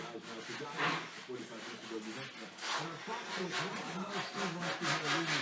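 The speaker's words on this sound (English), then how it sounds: "I'm sanding the inside of it now" Sandpaper rubs the inside of a small wooden bowl turned from a firewood branch on a wood lathe, giving a soft, continuous scratchy hiss with rhythmic swells, someone speaking over it.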